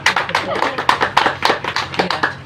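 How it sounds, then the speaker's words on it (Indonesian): An audience at a talk on preventing stunting and supporting pregnant mothers claps hands in a quick, uneven run of close, sharp claps, with voices mixed in. "Ya, kita tepuk tangan dulu."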